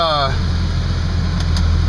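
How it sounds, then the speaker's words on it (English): A 2002 Audi S4 engine catches with a brief rising whine, then settles into a steady, low, close idle with a constant hum. "So I'm gonna fire up the car and I'll report back"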